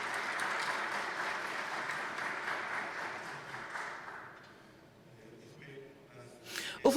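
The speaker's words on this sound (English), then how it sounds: "let's have a big round of applause for the organizers" A room of attendees at a wind energy industry session applauds the organizers, a dense steady clapping that tapers off after about four seconds into quiet with a few stray sounds at the end.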